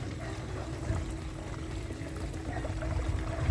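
Water pours steadily into an insecticide sprayer mix on a chili farm, a continuous splashing gush that holds close and fairly loud for several seconds with no talk.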